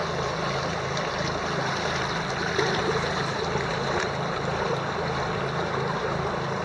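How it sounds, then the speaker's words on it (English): The Rogue River runs at high stage, a loud, continuous rushing wash of water close by, steady throughout with no talk. "Beautiful Rogue River."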